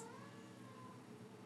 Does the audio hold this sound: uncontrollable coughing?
no